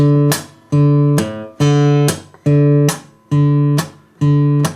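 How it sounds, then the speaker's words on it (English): A low, percussive slapped bass note on acoustic guitar, struck six times in a steady rhythm, each one ringing briefly then decaying before the next. "the bass note, if you isolate it, sounds like this."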